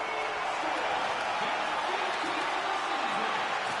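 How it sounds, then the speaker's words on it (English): A hockey arena crowd applauds the home team at the end of an NHL game, a dense, steady roar of clapping and cheering from many fans, with a commentator's voice faintly audible under it. "And the crowd's on their feet saluting the team after a hard-fought effort this evening."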